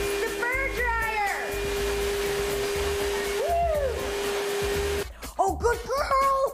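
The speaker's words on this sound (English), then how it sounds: "The fur dryer!" Pet fur dryer blowing on a dog after a bath at a dog wash, a steady loud whooshing drone with a fixed hum running for about five seconds, then cutting off as people chatter over it.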